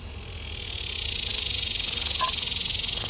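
Honeybees at an open top bar hive during a comb cut-out, buzzing as a dense, steady hum that swells within the first second and then holds loud and close, with a faint brief tone near the middle.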